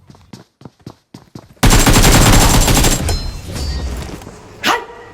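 Shotgun fire in the BGMI video game, a few short sharp shots, then a loud sustained burst of gunfire that tapers into scattered bangs with a final thump.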